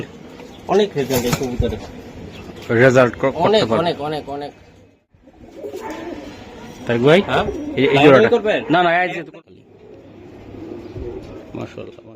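Giribaz high-flyer pigeons coo in bursts nearby while someone talks over and between the calls.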